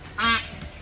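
Peacock at a farm mini zoo gives a single loud, brief honking call, close by, followed by quiet background.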